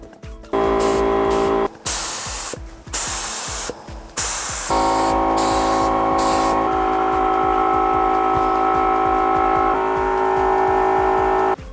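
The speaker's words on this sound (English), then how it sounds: "We're gonna spray the front triangle tonight, hopefully." Aerosol spray paint hisses onto a bicycle frame in repeated bursts of varying length, with a long continuous spray near the end, close by and loud.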